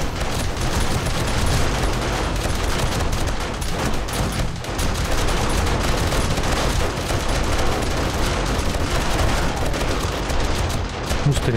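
Gunfire in the VR video game 7 Days to Die during an outdoor horde night: dense, continuous rapid shots and bursts layered over each other, loud and relentless for nearly twelve seconds with no pauses.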